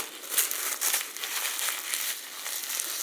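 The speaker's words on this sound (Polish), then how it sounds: "I teraz wszystko jeszcze w tą folię tak bardzo mocno." Plastic food wrap crinkles and crackles steadily as it is pulled tightly around a homemade sushi burger, a close, continuous rustle with brief louder crumples and no talk.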